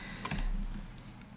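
Keystrokes on a computer keyboard, a short cluster of quick clicks entering fluid details in a paracetamol toxicity calculator, close and clear over low room hum, with no voices.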